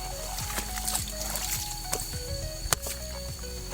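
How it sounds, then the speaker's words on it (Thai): A forest stream flowing near a waterfall, light trickling and gurgling water with small splashes and drips, soft and steady throughout. "น้ำไหลมาแต่พูดดิ"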